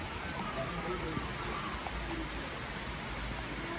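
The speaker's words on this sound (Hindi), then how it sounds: "ओ भाई बारिश हो गई तेज, फुल ऑन बारिश" Heavy rain falls in a village as a dense, even hiss that stays loud and steady for the whole stretch, with no other clear sounds.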